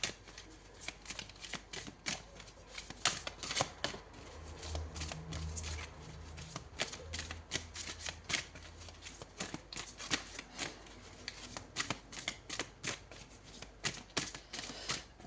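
Tarot cards are shuffled in quick rippling bursts of riffling and flicking, close and fairly quiet. The shuffles repeat steadily throughout with no speech.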